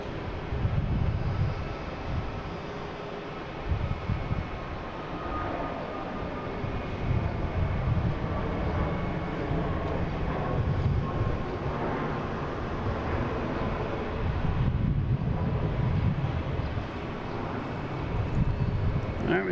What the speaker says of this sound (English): So it's heading to Baltimore, 737 MAX 8